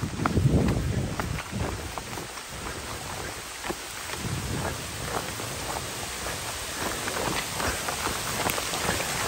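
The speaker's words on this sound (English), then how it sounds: "Yep, and just like that, the rain's coming in." Steady heavy rain pours down at night in a Norfolk Island national park, a dense continuous hiss with pattering drops, loudest in the first second and then even throughout.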